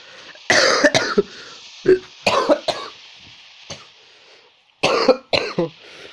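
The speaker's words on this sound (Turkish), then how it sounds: "Hayvan gibi öksürdüm ha" A person coughs in several loud, harsh fits, close up, separated by brief quiet pauses.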